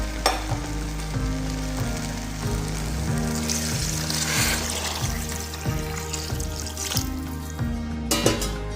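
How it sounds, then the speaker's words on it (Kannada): Four cups of water going into a pressure cooker holding broken wheat, moong dal and vangibath powder, a continuous splashing hiss with repeated scraping stirs and a brief clatter near the end, no voices. "4 ಲೋಟ ನೀರು ಹಾಕ್ತಿದ್ದೀನಿ,"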